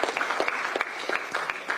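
A crowd applauds with dense, steady clapping, a brief burst heard up close without any talking.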